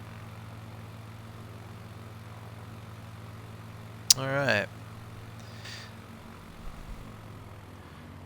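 A Cessna 421 in flight in a flight simulator game, its engine a steady low drone that runs the whole time, with a short spoken remark and a brief burst of sound near the middle.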